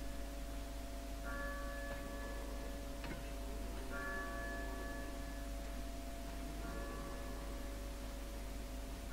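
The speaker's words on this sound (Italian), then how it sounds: "La campana." A church bell tolls in the video game Resident Evil 4, with three spaced, ringing strikes over a constant low electrical hum and hiss, moderately faint and with no speech.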